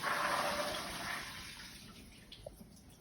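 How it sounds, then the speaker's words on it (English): Water drains off a pot of soaked Goya navy beans, a rushing pour that tapers to a thin trickle and a few faint drips. "And now I'm going to drain that water off."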